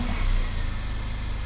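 A Mercedes A45 engine, suspected of mechanical damage with a rattling sound, revs briefly and loudly at close range, then settles into a steady running drone.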